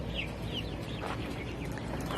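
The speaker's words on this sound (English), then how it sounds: "we also have the big chickens over here that they could come and, you know, visit and stuff" Large chickens clucking in a backyard garden, steady soft clucks over a broad, even background hum with no talking, fairly faint and continuous throughout.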